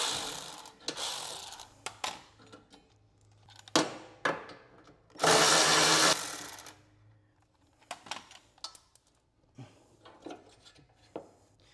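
Bolts come out of a John Deere X300 lawn tractor to a series of close metallic ratchet clicks and clinks in short, uneven bursts, including one longer loud stretch, with quiet gaps between.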